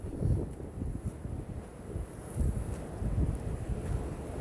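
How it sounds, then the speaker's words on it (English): Strong wind buffets the microphone on a beach at Sutro Heights, a steady low rumbling roar with gusts swelling and easing throughout and no voices. "And it's fucking windy. It's so windy."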